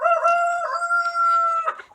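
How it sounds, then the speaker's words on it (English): A rooster on a small backyard farm crows once, a long, loud, close call with a drawn-out sustained middle, followed by a few short clucking notes. "There's Mr. Rooster."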